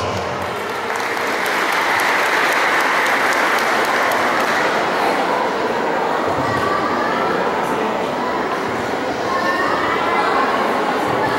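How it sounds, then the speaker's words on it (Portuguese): A large crowd at a Mother's Day celebration in Nova Iguaçu gives steady, dense applause. The clapping is loud and sustained without a break for the whole stretch, with faint chatter mixed in. "uma salva de palmas"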